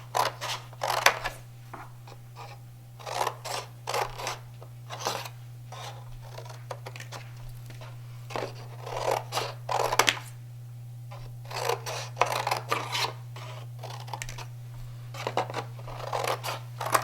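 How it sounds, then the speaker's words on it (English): Scissors cut pieces of paper in a quiet room: bursts of crisp snipping and rustling come in irregular clusters, close and fairly soft, over a steady low electrical hum. "then just start cutting some pieces of paper"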